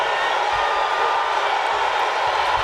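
A boxing arena crowd roars before a world title fight, a loud, continuous wash of cheering voices with no breaks.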